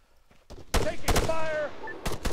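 Gunfire in the military shooter game Arma 3, with several sharp, loud shots cracking in quick bursts, mixed with a shouted voice call.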